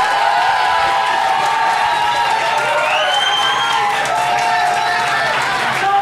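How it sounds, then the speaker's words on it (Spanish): Loud continuous crowd applause with scattered whoops and cheers from a television studio audience during a reality show, a steady roar mixed with music. "Aplausos para Cata Ferrer."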